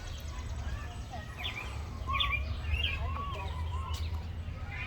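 Scattered bird calls at a zoo, near a rhino enclosure, chirp faintly in the distance over steady low background rumble and crowd noise, with people talking nearby.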